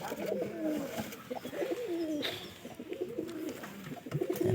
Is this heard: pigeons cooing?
yes